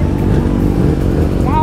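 A Kawasaki Z750 motorcycle engine rumbles steadily up close with a loud, continuous low drone, and voices talk over it.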